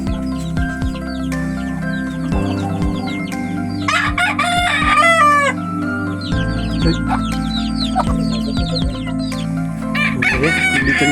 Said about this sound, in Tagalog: Dami mga manok dito. Nakakulong.